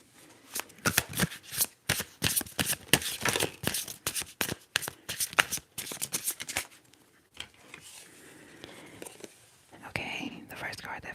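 Tarot cards shuffled over and over in close, crisp riffling bursts with brief pauses, under soft whispering during a fool's journey reading.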